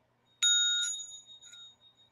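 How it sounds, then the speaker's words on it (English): A tiny, loud singing bowl is struck, giving a bright metallic ring with clear overtones that swells once more and then fades over about a second and a half, alone in a quiet room. "I found a little bowl. Oh my gosh, a little tiny singing bowl. And it's loud too."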